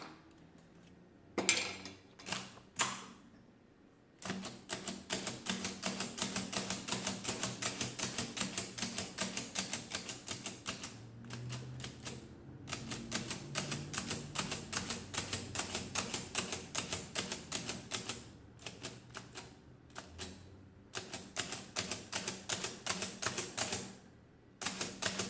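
Keys on a Comptometer 3D11 mechanical calculator under repair are pressed in long runs of rapid, sharp clacks, close and fairly loud, with brief pauses between bursts and no talking.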